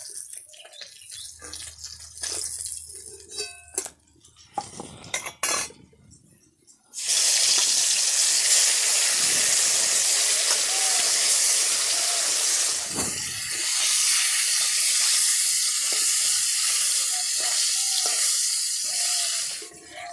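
Bata fish frying in hot mustard oil in a kadai, starting with quiet clinks and handling before a loud sustained sizzling hiss sets in and runs steadily to the end.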